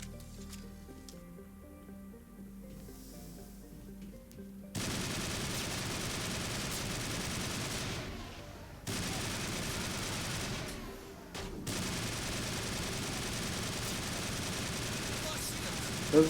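Automatic rifle fire in a first-person shooter game, dense sustained bursts rolling on loudly for most of the stretch, with a brief lull partway through; someone talks over the shooting.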